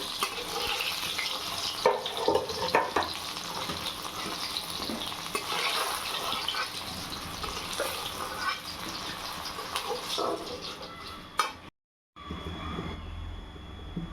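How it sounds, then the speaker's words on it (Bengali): Eggplant slices frying in oil, a dense continuous sizzle and crackle with scattered stirring clatter, close and loud, broken by a brief silent gap near the end. "আমার বেগুন ভাজা হয়ে গেছে, একটা করে আমি তুলে নিব, লাল করে ভেজে নিচ্ছি।"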